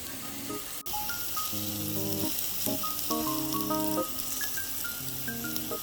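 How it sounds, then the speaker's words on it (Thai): Pork sizzles and crackles steadily on a hot tabletop grill at a Thai moo kratha barbecue in Mae Kampong, a continuous frying hiss with music playing in the background. "เรามากินหมูกระทะมันอุ่นๆดีกว่า"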